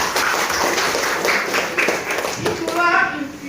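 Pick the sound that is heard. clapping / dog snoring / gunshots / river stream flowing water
clapping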